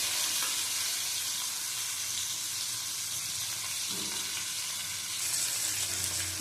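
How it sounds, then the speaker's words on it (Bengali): Potatoes, pointed gourd and onion fry in a pan, making a dense, even sizzle close by with a soft stirring scrape partway through and no one speaking. "ভালো করে ভেজে নেব"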